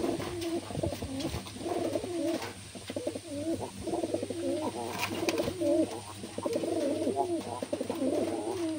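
Pigeons coo repeatedly nearby in a soft, rolling rhythm, several calls overlapping against a low steady hum, with a faint voice briefly in the background.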